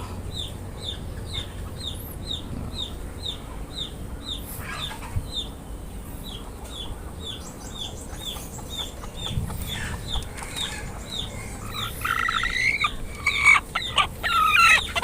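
Chickens in a coop of laying hens, some sitting on nests to brood eggs, give a rapid series of repeated clucks over a low barnyard hum, with rising squawks and livelier calls near the end.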